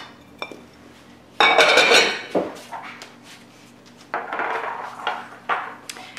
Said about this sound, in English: You take 14 of these and put them in the pot.